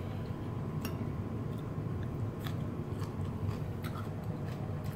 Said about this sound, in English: You hear that crunch right there?